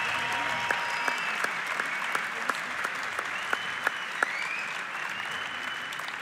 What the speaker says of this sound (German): Dementsprechend hätte ich gern großen Applaus für beide Kämpfer.